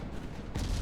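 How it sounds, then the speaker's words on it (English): Torpedoes launch from a warship in the naval game Ultimate Admiral Dreadnoughts, a muffled rumbling thump that swells into a louder, broader burst about halfway through the short moment. "Torpedoes away. Enemy torpedoes are away as well."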